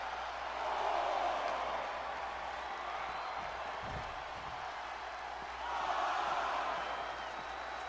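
Arena crowd in a wrestling video game roars and cheers in two swelling waves, a steady wash of noise that rises near the start and again toward the end, with a brief thud in between.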